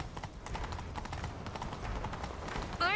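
Galloping horse hooves in The Witcher 3: Wild Hunt, a steady rapid clip-clop that runs under game music and effects through the whole stretch, with a brief bright whoosh near the end.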